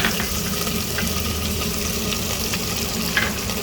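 Green chillies hit a pan of frying upma, and a steady, loud sizzle with stirring scrapes runs throughout.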